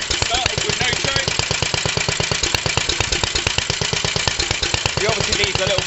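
A 1945 Petter A type vintage stationary engine runs after its first start in 30 years, firing in a fast, steady, evenly spaced chugging beat, loud and close, with a voice briefly heard.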